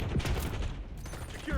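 Gunfire in a tactical shooter game: a dense, loud rattle of rapid shots filling the short moment, close and harsh, with a voice faintly beneath.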